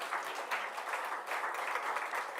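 A church congregation applauds in a steady, fairly faint wash of clapping that carries on evenly without talk.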